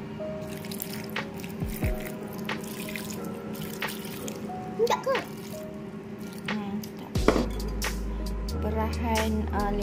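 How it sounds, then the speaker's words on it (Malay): Cornstarch water poured into a pan while cooking steamed lemon sea bass, with drips, splashes and trickling amid kitchen clatter and a steady low hum. "kita masukkan air tepung jagung tadi."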